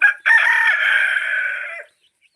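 A rooster crows once on a country chicken farm, close and loud: a short opening note, then a long sustained call that ends abruptly, followed by silence.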